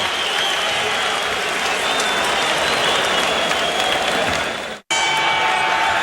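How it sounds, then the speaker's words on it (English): A boxing arena crowd in Reno, Nevada breaks into sustained, dense applause and cheering for a favored fighter at Ray Mancini versus Hector Camacho, loud and unbroken before a brief cut near the end. "The crowd responds to their favorite here in Reno."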